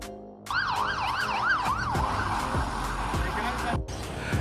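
A Latvian Mercedes-Benz Sprinter ambulance runs its siren close by, a fast rising-and-falling warble that shifts into a steady high tone for a few seconds before cutting off.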